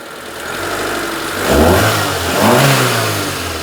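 A car engine with a fuel problem, just dosed with Kudos fuel injector cleaner, runs loud and close, revving up twice in smooth swells before settling back toward idle.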